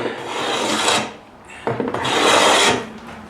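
A hand plane takes two long, rasping shaving strokes across a wooden board, each a loud, close, scraping swipe with a short pause between them.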